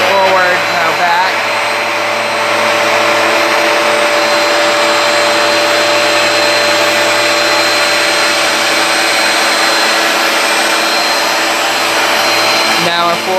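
A Hoover Power Dash carpet cleaner runs continuously with a loud, steady motor whine and airflow roar during slow forward and back passes over dirty carpet, close up and alone.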